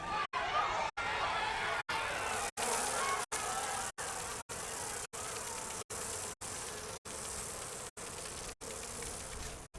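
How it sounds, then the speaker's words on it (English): A swarm of bees pours from a beehive weapon in a video game, a thick, continuous buzz cut into regular short silences, sustained and fairly loud. "on hit, chance to inflict bees on target"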